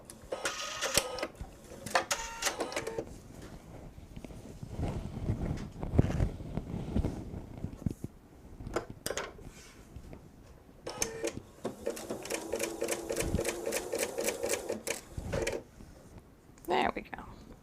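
A sewing machine runs in short bursts while stitching a jellyroll quilt, one stitch failing to catch. Its rapid mechanical chatter comes in rhythmic runs separated by pauses, with a person talking in between.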